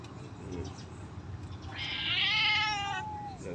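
An adult cat near orange kittens gives one drawn-out, rising then falling meow midway through, with soft background noise and faint earlier sounds around it.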